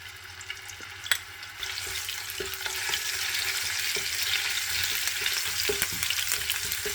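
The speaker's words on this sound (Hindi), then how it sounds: "फ्यू सेकंड के लिए हम इसको फ्राई करेंगे।" Steady hot-oil sizzling and crackling as garlic and ginger fry, building in the first second and holding, with a few sharp pops and light clinks over it.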